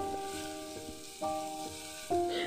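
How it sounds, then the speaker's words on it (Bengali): Chopped medium tomatoes frying with onions in a pan over a low-to-medium flame, giving a steady soft sizzle with a few louder bursts as they are stirred, close up with no talking. "লো টু মিডিয়াম ফ্লেমে টমেটোটা একটুখানি নরম হয়ে যাওয়া পর্যন্ত ভেজে নিলাম।"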